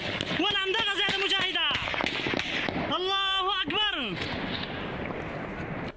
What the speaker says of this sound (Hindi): वीडियो में फायरिंग की आवाजें सुनाई दे रही